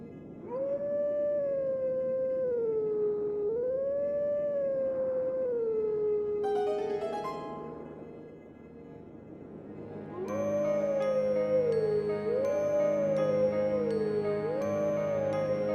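In Zelda: Twilight Princess, a wolf howls in long, wavering, sustained tones, repeating several times near and clear over a soft musical backdrop with chiming notes.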